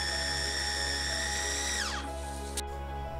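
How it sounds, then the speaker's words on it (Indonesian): An electric food chopper grinds chicken and vegetables in 250-gram batches for nuggets, giving a loud, steady high-pitched motor whine that winds down near the end, close up and alone. "Nah ini biar lebih awet, sengaja saya giling per 250 gram ya."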